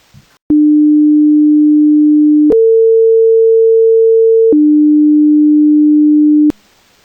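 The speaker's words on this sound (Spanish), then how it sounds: "se generó de manera controlada en el programa Audacity una onda sinusoidal, donde se realizó un cambio de tono en la onda para simular el efecto Doppler" A sine wave generated in Audacity holds a steady pure tone, steps up in pitch for two seconds and then drops back to the first pitch before cutting off, a pitch shift meant to simulate the Doppler effect, loud and alone.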